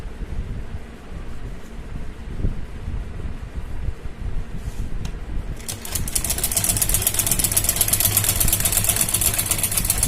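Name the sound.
sewing machine stitching trim onto kurti neckline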